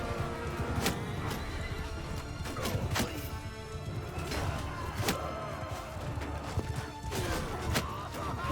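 Horses whinny repeatedly amid hoof clatter and sharp impact thwacks in a medieval battle of the modded game Bannerlord, several loud neighs standing out over a busy clashing din.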